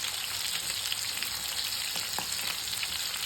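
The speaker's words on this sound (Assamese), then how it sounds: "এয়া মাছ ভাজি আছোঁ।" Fish coated in turmeric and salt sizzles steadily in hot oil in a pan, a dense, constant crackle with scattered small pops and no talking.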